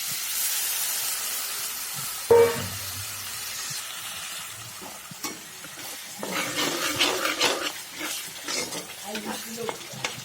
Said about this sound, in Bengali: এখন দিয়ে দেব একটু জল।